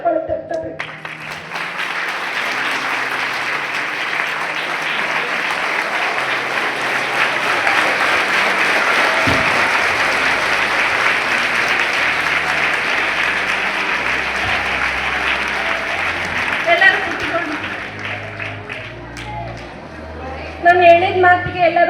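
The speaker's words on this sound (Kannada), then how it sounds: "ಎಲ್ಲ ವಿದ್ಯಾರ್ಥಿಗಳು ಎದ್ದು ನಿಂತು ಜೋರಾದ ಚಪ್ಪಾಳೆ ತಟ್ಟಬೇಕು" Students at a school event stand and applaud loudly, a thick sustained roar of clapping that builds and holds for most of the stretch, with a speaker's voice heard at the start and again as it fades.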